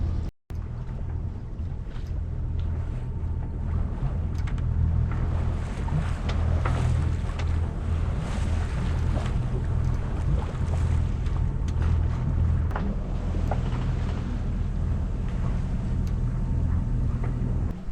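A sailboat under way at sea off the German and Dutch coast, with a steady 12-knot beam wind rushing over the microphone and a continuous low rumble of hull and water throughout, loud and close.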